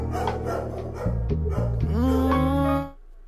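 Dog barks sampled in a hip-hop song: a few sharp, close barks land on the beat over heavy bass, then the track cuts off.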